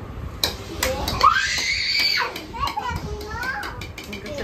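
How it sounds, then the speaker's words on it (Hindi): Two children play and shout close by early in the morning, with high excited screams and squeals rising and falling amid quick knocks and clatters. "दोनों खेल रहे हैं यहाँ पे सुबह सुबह"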